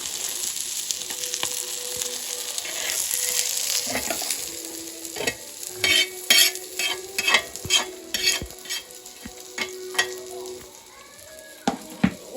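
Fish frying in a pan, an even bright sizzle running underneath while a spatula clatters and scrapes in quick bursts toward the end, close by, with no speech.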